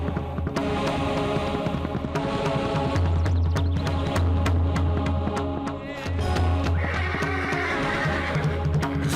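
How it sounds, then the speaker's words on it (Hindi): A black horse neighs and whinnies repeatedly over a steady low hum, the calls loud and close, with a few hoof clops mixed in. "ये काला घोड़ा किसका है?"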